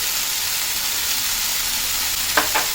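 Broccoli stir-frying in a pan with chili flakes gives a steady, close sizzling hiss throughout, with two quick scraping strokes near the end.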